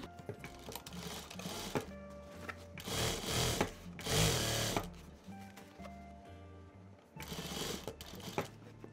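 A sewing machine stitches a denim handbag a quarter inch from the edge, running in three bursts of steady whirring separated by short pauses.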